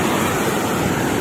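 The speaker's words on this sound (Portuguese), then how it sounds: "Bastante água que tá descendo aqui no Rio Salgado ainda." The Rio Salgado in Ceará flows full after water transfer, giving a steady loud broadband rush of running water with no pauses, close to the microphone.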